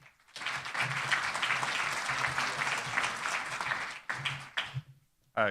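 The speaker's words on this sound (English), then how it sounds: "And please join me in a round of applause for Dr. Mitchell Katz." Conference audience applauding in a large hall, a broad, even wash of clapping that swells and holds for about four seconds, then breaks into a few scattered claps before fading out.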